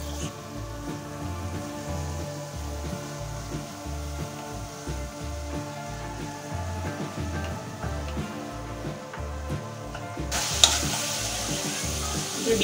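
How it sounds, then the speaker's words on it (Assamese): Chopped tomatoes with turmeric, salt and a dried chilli frying in a pan, a steady soft sizzle over a low rhythmic background throb, with a brighter burst of crackle near the end. "বিলাহীখিনি গলি যোৱালৈকে ভাজি ল'ম।"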